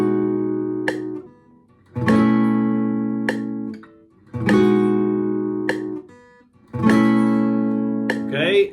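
Rhythm guitar strumming the chords of a song at a slow 50 bpm, four sustained chord strikes spaced about two seconds apart, each left ringing before the next, fairly quiet and close.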